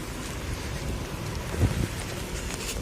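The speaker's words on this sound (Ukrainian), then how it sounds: "стандартно дощ. Дощ, дощ, дощ і ще раз дощ." Steady rain falls outdoors in Scotland near the sea, a continuous close hiss with gusty wind buffeting the microphone.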